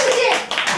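A brief burst of clapping from a small group, loud and close, heard over lively voices.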